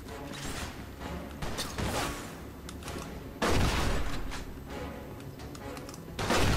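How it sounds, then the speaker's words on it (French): A pump-action shotgun booms in Mafia II amid a noisy shootout, with heavy blasts at irregular intervals over a constant din, while someone talks. "Je tire un peu n'importe comment là, avec mon fusil à pompe du coup."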